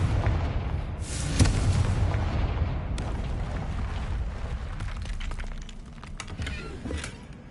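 The Confringo blasting spell goes off in Hogwarts Legacy as a deep, rumbling explosion with sharp cracks near the start and a long, heavy roar that slowly fades, with no talking.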